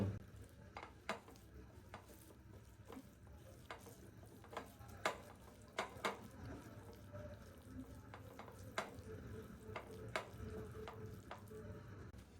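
Fish marinade with mustard oil, coriander leaves and green chillies being stirred and fried in a pan, a steady low sizzle with sporadic sharp scraping clicks of the spoon, faint and without speech.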